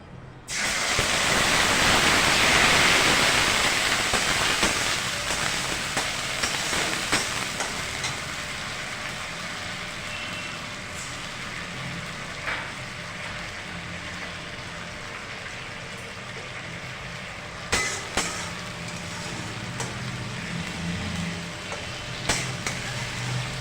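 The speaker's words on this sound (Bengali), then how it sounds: "এবার আমরা এর মধ্যে দিয়ে দেব পেঁয়াজ, আদা এবং টমেটোর 1 চামচ মতো পেস্ট।" Onion, ginger and tomato paste hits hot oil tempered with five-spice in a pan for a light vegetable fish curry, bursting into a loud broadband sizzle that settles into a steady hiss, with occasional utensil clinks and no talking.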